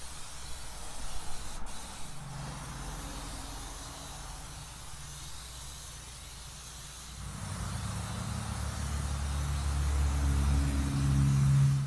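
Aerosol spray cans being emptied to coat a Lonestar Grillz offset smoker, a steady close hiss running throughout with a brief pause and louder, rougher spraying toward the end.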